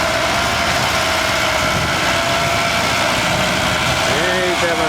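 An Allis-Chalmers 6080 front-wheel-assist tractor runs at an antique tractor show, its engine droning steadily and loudly throughout, with people talking over it.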